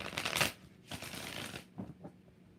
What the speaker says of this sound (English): 2 more shuffles for Jenna Hall.